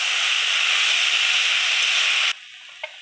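Kalmi saag sizzles and fries steadily in a hot pan as it is stirred, a loud continuous hiss that cuts off abruptly near the end, leaving a quieter simmer with one small clink.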